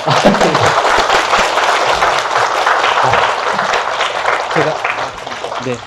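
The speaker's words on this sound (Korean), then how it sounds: "박수 부탁드립니다." A lecture audience applauds steadily for about six seconds, dense and fairly loud throughout, with voices talking beneath and a slight fade near the end.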